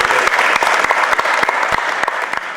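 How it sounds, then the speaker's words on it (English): An audience gives the interns a warm round of applause, dense close clapping with a few sharp individual claps standing out from the steady wash. "give a warm round of applause, Jack and Kate"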